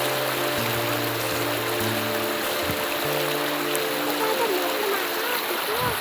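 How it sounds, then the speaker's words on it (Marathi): Cold stream water flows nearby in a steady, even rush of broadband noise that lasts the whole time, with faint voices and tonal sounds in the background. "हा बघा मस्तपैकी वाहतोय"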